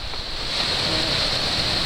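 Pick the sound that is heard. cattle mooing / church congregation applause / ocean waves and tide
ocean waves and tide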